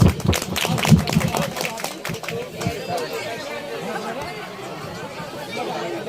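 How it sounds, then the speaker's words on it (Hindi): Audience at a mushaira, an Urdu poetry gathering: a burst of clapping and crowd noise at the start fades into a murmur of chatter and scattered claps, with voices talking over it. "अरे बाबा बाबा जोरदार ताली भाई"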